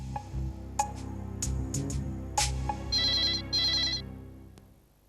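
A telephone rings on an outgoing call, a repeating electronic ringtone pattern of bright tones that plays clearly and alone before fading out.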